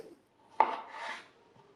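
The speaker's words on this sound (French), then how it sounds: "on va les couper tout simplement en quartiers" A single sharp knife cut through a potato on a board, close and quiet, followed by a short scraping slide.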